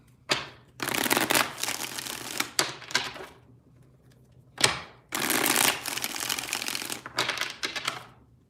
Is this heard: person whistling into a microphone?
no